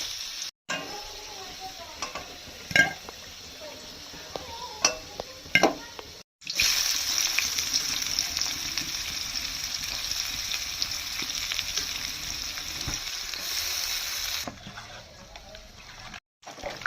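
Onions with ginger and garlic go into hot oil for a mutton dish: light clinks and stirring come first, then a loud, steady sizzle starts abruptly and holds close by, with some talking underneath.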